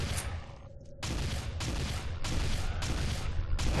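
Rapid gunfire in an Android zombie survival game: several bursts of loud, broadband shots follow one another in uneven rhythm, with no talking.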